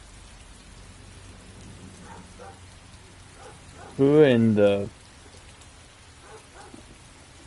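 Steady heavy rain falls outside in a video game scene, a broad continuous hiss running throughout, with someone briefly talking over it partway through.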